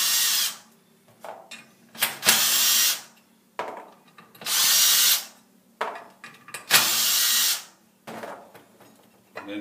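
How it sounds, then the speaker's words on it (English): A power drill with a T25 Torx bit backs out four screws while the secondary clutch is removed for a helix change, heard as four loud, close whirring bursts, each about a second long, separated by brief pauses with handling clatter. "take a T25 Torx bit, and just remove the four screws."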